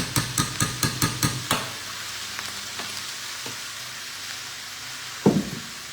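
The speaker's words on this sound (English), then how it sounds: "I'm actually gonna add 1 more tablespoon of olive oil to the zucchini" Zucchini noodles fry in olive oil with a soft, even sizzle, opened by a quick run of about seven sharp rhythmic taps, then scattered clinks and one louder clatter near the end.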